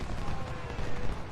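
Musket and artillery fire rage in the Civil War battle game Ultimate General: Civil War, a dense, continuous rumble of overlapping shots and booms with no clear gaps.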